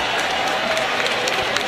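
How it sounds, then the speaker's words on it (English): A boxing-match crowd applauds and cheers at the Aneson Gib vs Taylor Holder fight, a dense, steady wash of clapping and crowd noise filling the whole moment. "The crowd showing their approval and their appreciation."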